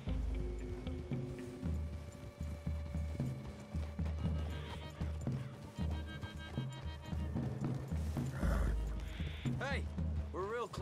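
Horse hooves clip-clop at a trot through a wooded area in the Red Dead Redemption 2 video game, a steady patter under music, a whinny and spoken dialogue.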